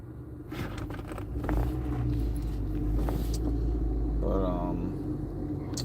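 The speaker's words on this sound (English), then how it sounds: "now I'm in the car" Steady low road rumble and engine drone inside a moving car, continuous and fairly loud throughout, with a brief higher whine near the end and no talking.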